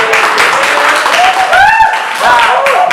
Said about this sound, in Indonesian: beri tepuk tangan sekali lagi dong